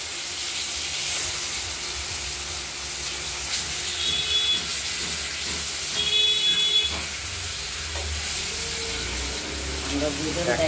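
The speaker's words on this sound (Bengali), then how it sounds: "আর একটু ভাজা করছি।" Katla fish pieces frying in hot oil during a fish and potato curry preparation, giving a steady broadband sizzle and hiss with soft low rumble, moderately loud and continuous, with a faint voice briefly underneath.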